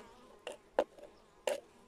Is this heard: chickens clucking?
no